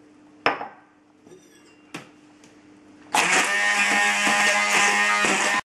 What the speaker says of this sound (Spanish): echar el pimiento del piquillo aquí en un recipiente con un poquito de agua y lo vamos a batir todo